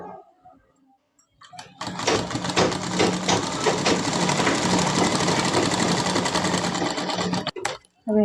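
A sewing machine runs steadily for several seconds while stitching a child's frock, a close, even mechanical whir with a rapid needle rhythm, starting and stopping with a few clicks and no talk.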